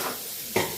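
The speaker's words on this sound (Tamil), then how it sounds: "வெங்காயத்தை பொன்னிறமாக வறுக்கவும்" Onions frying in oil in a pan give a brief, steady sizzle, broken by a single sharp utensil clink near the end.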